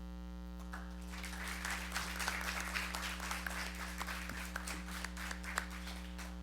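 Audience applause after a personal story told at a talk on the Federal Reserve and wage growth, a steady dense patter of many hands over a constant low electrical mains hum, moderately faint and continuous throughout.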